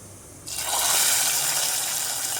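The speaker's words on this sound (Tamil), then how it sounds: "இந்த சவுண்டு எனக்கு ரொம்ப பிடிக்கும் இந்த தாளிப்பு சவுண்டு" Hot oil with tempering spices hits a vallarai keerai kootu, bursting into a loud sudden hiss after a quiet moment, then holding as a steady, bright rushing sizzle.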